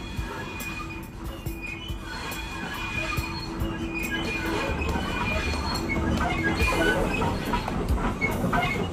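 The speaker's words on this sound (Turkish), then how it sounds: "Tren geldi, bindik." A train pulls in with steady rumbling wheels, rail clatter and faint squeals, the sound gradually growing louder and nearer over several seconds.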